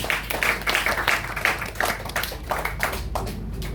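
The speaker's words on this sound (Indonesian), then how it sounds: "Tepuk tangan buat Kak Iskandar." A group claps for a senior martial arts fighter at a fast-breaking gathering, with steady, fairly quiet rhythmic clapping that carries on for several seconds.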